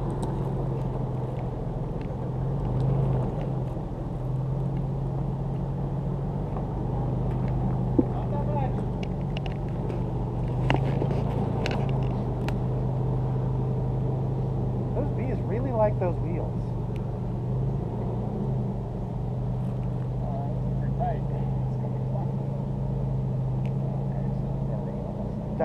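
An off-road vehicle crawls slowly over rocky trail terrain during a club run at Taneum, its engine giving a steady low rumble under people talking.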